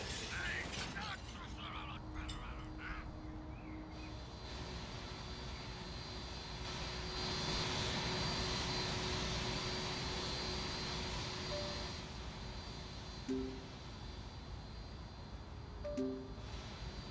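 Airplane engines drone steadily in the airport management game Airport CEO, a continuous broad roar with faint tonal whines and occasional short beeps, at moderate level throughout.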